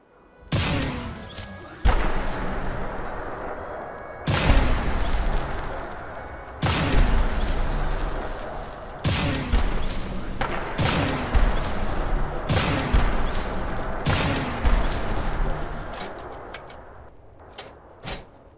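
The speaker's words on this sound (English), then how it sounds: "I like how it's a little charge up gun and it shoots the big plasma balls" Modded charge-up plasma gun from Fallout 4 firing big plasma balls: six or seven loud, booming discharges spaced a couple of seconds apart, each a heavy broadband blast trailing off, with no talk.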